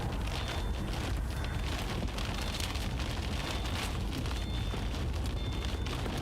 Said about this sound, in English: Big southerly's coming. Rain coming.